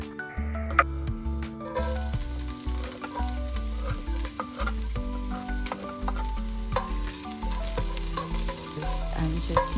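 Ginger, garlic, carrots, white onion and tofu sizzling in sesame oil in a soup pot, a lively close crackle with scraping and clinking stirring strokes, no talking.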